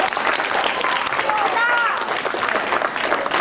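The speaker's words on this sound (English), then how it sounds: "Give her a round of applause for that." A live science-demonstration audience claps loudly and continuously in a dense, steady burst that lasts the whole moment, with a few excited voices and cheers mixed in.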